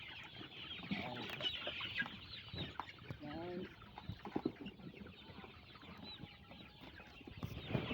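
Chickens cluck softly and intermittently at a moderate distance over a low background murmur.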